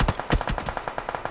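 An automatic gun sprays in the BGMI battle-royale game, a rapid burst of about a dozen sharp cracks, loud at first and then slightly lighter, with no talking.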